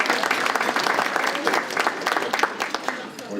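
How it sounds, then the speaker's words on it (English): A crowd applauds at an opening session, a dense, close burst of clapping with voices mixed in, holding strong before easing slightly toward the end. "Give a round of applause for that."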